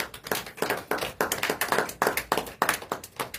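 A church congregation claps together to acclaim the word of God, producing a rhythmic run of sharp, evenly spaced hand claps at a brisk pace, heard from a moderate distance.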